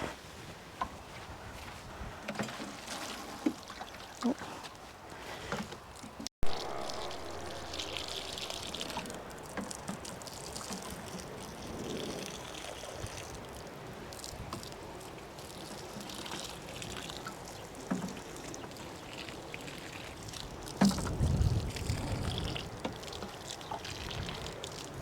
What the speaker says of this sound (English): Right, let's water them in.